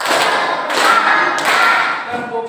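Three loud group hand claps in a classroom clapping routine, evenly spaced bursts that ring briefly in the room.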